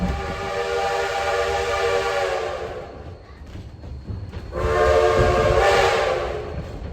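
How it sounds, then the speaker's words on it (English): A steam locomotive whistle on the Huckleberry Railroad sounds a long, loud blast and then a shorter one, ringing over the steady chug and rumble of the train. "Now there's a whistle signal we haven't heard yet. A long and a short."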